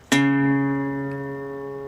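A single open fourth guitar string plucked once in a country blues piece, ringing clearly with a bright attack and a long, slowly fading sustain.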